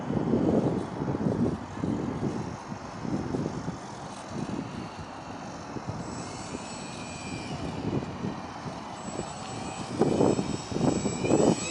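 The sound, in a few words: STOL short takeoff and landing airplane flying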